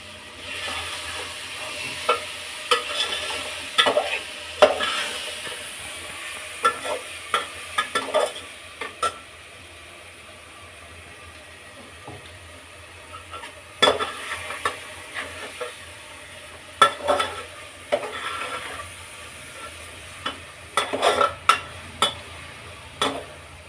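Mushroom pulao being mixed in a pan: a low steady sizzle runs throughout while a spoon scrapes and knocks in irregular bursts, pausing midway, close and without speech.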